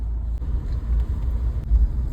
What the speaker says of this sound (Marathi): अरे बाळा गाडी एवढा फास्ट चालून कुठे जात